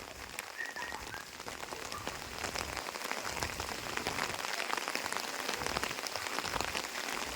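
Steady rain pours outdoors, a dense continuous hiss of drops hitting surfaces, with occasional frog croaks mixed in and no voices.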